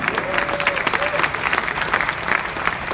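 Audience applause at a startup pitch competition, dense loud clapping from a crowd filling the whole moment, with a faint voice briefly audible underneath.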